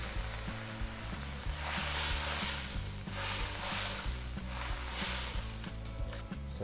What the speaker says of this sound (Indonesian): saya akan masukkan sekitar 200 ml air putih